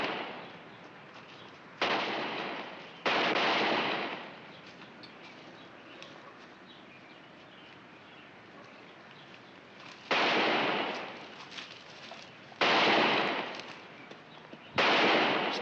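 Gunfire with real bullets in an American western sitcom episode: several loud, roughly one-second bursts of shots break out at intervals over a quieter background, with no talking.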